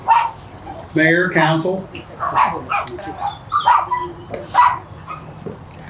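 Dogs bark and yip at a dog park grand opening, a few sharp barks and whimpers rising over a man addressing an outdoor crowd.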